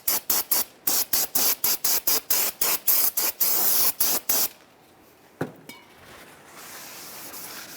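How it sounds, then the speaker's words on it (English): Brake parts cleaner sprays onto a front brake rotor of a 2007-2013 Mitsubishi Outlander in a dozen quick, loud hissing bursts at a steady rhythm, followed by a faint metallic clink and dripping quiet. "We're going to go ahead and clean that off with brake parts cleaner"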